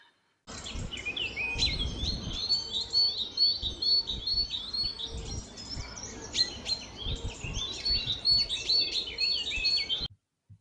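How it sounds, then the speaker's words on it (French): Birds chirp and warble at dusk at the Eotopia ecovillage, repeated high trilling phrases over a quiet outdoor background, with no talking. "je t'ai fait un petit sample des sons d'oiseaux, à la tombée du soir à Eotopia"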